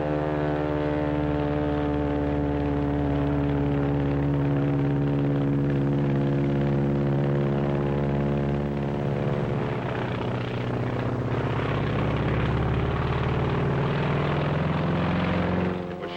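Japanese Zero fighter plane droning steadily with a loud, even propeller engine hum that shifts in pitch partway through, continuous and close, with no talking.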